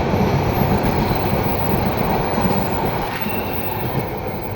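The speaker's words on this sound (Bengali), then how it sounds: "এটা হলো এক্সপ্রেসওয়ে, মহানগর এক্সপ্রেস। চট্টগ্রাম থেকে ছেড়ে আসছে।" The Mahanagar Express passenger train, running from Chittagong toward Dhaka in the evening, thunders past nearby with a loud, continuous broadband rumble and wheel roar throughout.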